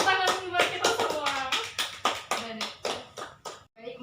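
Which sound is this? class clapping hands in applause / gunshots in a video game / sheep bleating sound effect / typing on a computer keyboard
class clapping hands in applause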